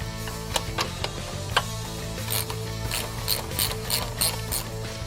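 Ratchet wrench removing nuts from the rear motor mount bracket of a 2013–2018 Ford Focus ST, sharp repeated clicking pawl strokes up close over a low mechanical hum.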